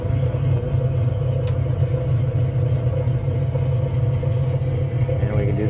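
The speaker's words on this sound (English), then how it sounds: "we'll go through the engine start for the airplane, so we can crank it and run it, and it'll fire up here." A C-47 transport aircraft engine in a flight simulator, a steady low rumbling drone running continuously and evenly with no voices.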